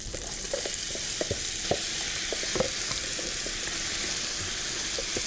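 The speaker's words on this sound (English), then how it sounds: "we're going to saute the vegetables just a little bit" Vegetables sauté in a pan for a shrimp and crawfish dip, a steady close sizzle with occasional scraping stir clicks and no talking.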